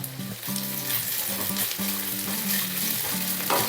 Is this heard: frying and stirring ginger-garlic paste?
yes